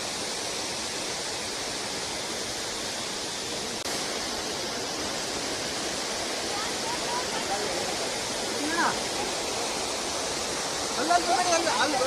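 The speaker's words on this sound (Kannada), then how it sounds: "ಈ ಥರ ಒಂದು ಹಿಡನ್ ವಾಟರ್ ಫಾಲ್ಸು ಈ ಥರ ಎಲ್ಲ ಸಿಗುತ್ತೆ ನಮಗೆ" A hidden waterfall on the Nethravathi peak trek in the Western Ghats, a broad steady roar of falling water filling the scene at constant loudness, close and continuous, with no talking.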